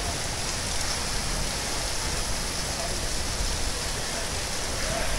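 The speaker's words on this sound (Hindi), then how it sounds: "कितनी तेज़ बारिश आ रही है देखो" Heavy rain pours steadily onto a flooded street in Hisar, Haryana, a constant loud hiss with no pauses and no talk over it.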